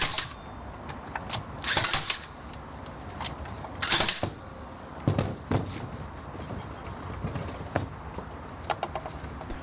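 A cable stapler drives staples over 12-3 round Romex cable with ground, several sharp, loud clacks at irregular intervals amid quieter handling noise.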